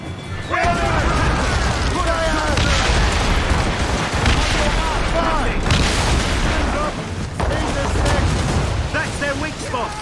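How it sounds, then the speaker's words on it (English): Mortar explosions boom across a naval battle in the Assassin's Creed Rogue video game. Heavy, repeated blasts and gunfire-like crashes run continuously for the full stretch, loud and dense, with voices shouting over them. "Mortars incoming, Shay!"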